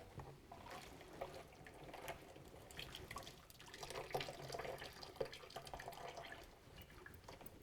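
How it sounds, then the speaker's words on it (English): Water drains from a kitchen sink after cooking pastina soup, giving a faint, close wash of irregular gurgles and small splashes. "I drain the water"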